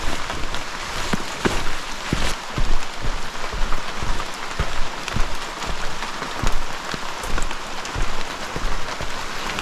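Heavy rain falls outdoors in the Outback on a wet day near a waterfall, a dense, loud, continuous hiss of drops pattering on surfaces, with scattered sharper splashes throughout.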